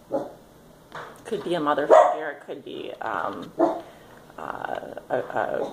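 A pet dog barks and growls in short bursts at a home indoors, close and fairly loud, overlapping a woman's speech throughout.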